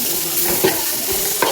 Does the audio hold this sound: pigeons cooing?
no